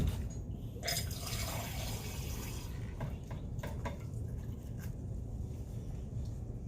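Water is poured into the apparatus of a gas pressure experiment, a faint, steady trickling fill with a few soft drips and clinks, heard alone at low level.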